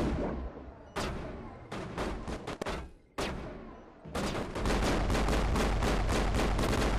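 Pistol gunfire in Mass Effect, sharp shots in irregular bursts, some single cracks and quick clusters, ending in a rapid run of loud repeated shots with brief gaps of quiet between.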